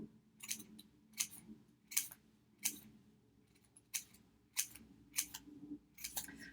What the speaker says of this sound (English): So I'm going slow, cutting these lines, being careful not to cut my paper off